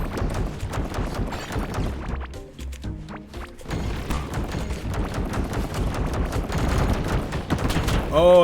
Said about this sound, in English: Oh, that's a lot of exploding walls.